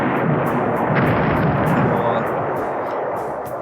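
Bomb hits from dive bombers exploding in the War in the Pacific: AE strategy game, with a dense, sustained roar of blasts and rumbling bursts filling the whole stretch at high loudness.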